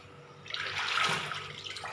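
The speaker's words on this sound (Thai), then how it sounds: "ล้างเตรียมไว้" Water splashes and swishes in a kitchen as green onions and other soup vegetables are rinsed, a short, soft burst of sloshing with no talk.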